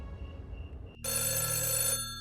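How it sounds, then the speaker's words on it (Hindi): A telephone rings loudly indoors in a family home, a single sustained electronic ring burst after a faint moment of quiet, with no talking over it. "किसका फोन है?"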